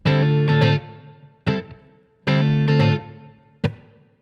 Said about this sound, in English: It's a nice high definition reverb.